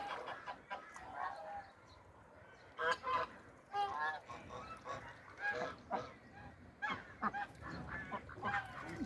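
A flock of geese beside the Yeşilırmak river, honking and clucking in overlapping calls, some near and some farther off, in a steady outdoor chorus with no talk.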